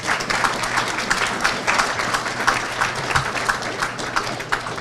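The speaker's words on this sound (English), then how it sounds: "give you a round of applause" At a black-tie gala benefit, an audience gives a round of applause: many hands clapping in a lively, steady wash with distinct individual claps, sustained for several seconds.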